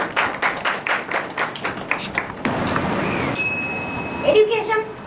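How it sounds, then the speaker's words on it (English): Sparse, uneven hand claps from a small debate audience ring out as a run of distinct claps, then stop and give way to ringing chime-like tones. "Please give them a big round of applause."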